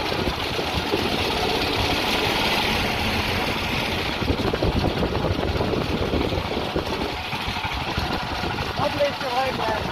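A Honda GX390 generator engine powering a dune buggy runs steadily and loudly for the whole stretch, its rough continuous drone dominating with no pauses.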